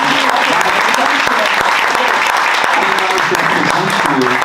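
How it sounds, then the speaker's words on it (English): Audience at a historians' talk applauding warmly, steady dense clapping throughout with a few louder claps standing out and faint voices beneath. "Thank you, Kim, and a round of applause for Kim."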